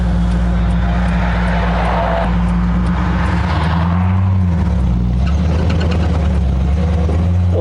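A 1999 VW Beetle rally car pulling away in second gear, a loud close engine drone with low rumble that labors, dips in pitch midway, then climbs steadily as it gathers speed, with road and wind noise throughout.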